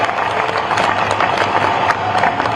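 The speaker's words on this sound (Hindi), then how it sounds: "मुझे लगता है विजय राव जी के लिए और बड्डे राव जी के लिए एक बार जोरदार ताली आपकी बजनी" A crowd at a political gathering applauds loudly and continuously, a dense clatter of clapping with a low steady hum underneath.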